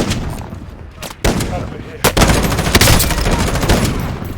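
Rapid bursts of gunfire from a Call of Duty match crackle and boom in dense, overlapping volleys, with sharp loud cracks near 1.2 and 2.1 seconds and a continuous barrage after; no clear talk over it.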